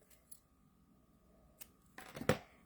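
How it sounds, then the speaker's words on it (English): Scissors snip off an extra loop of string in a craft project, giving several quick close cuts in a short cluster near the end after faint handling noise. "Go ahead and cut off that extra loop there."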